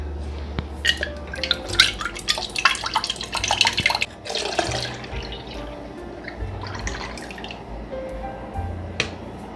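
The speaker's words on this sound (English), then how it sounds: "so I'm adding the 4 weak, which is pineapple juice" Pineapple juice poured from a container into a bowl as the weak part of a Jamaican rum punch, splashing and dripping near and loud for several seconds before easing to softer trickles.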